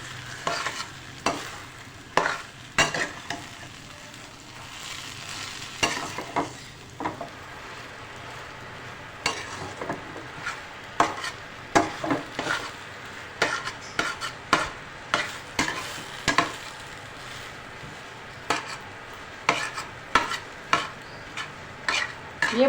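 Mashed potato bharta fries with masala in a pan, a steady sizzle broken by repeated sharp scraping and stirring strokes of a spoon against the pan, close and loud with no talk.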